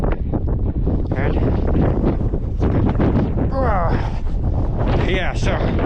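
Strong wind buffets the microphone outdoors over deep, piled-up snow, a loud continuous roar with gusty surges, while a person talks now and then.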